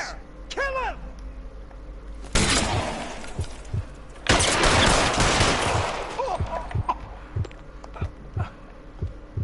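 Gunfire in the video game L.A. Noire: two loud, sustained bursts of shots with sharp reports ringing out amid scattered single cracks, close and harsh, with brief game voices between them.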